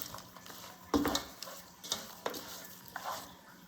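Chopped onions being stirred into a cassava leaf mixture, with a few scattered scraping and clinking knocks of a utensil against the bowl over quiet background, no talking.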